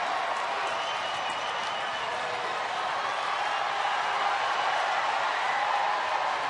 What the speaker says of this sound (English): WWE Universe is cheering Randy to go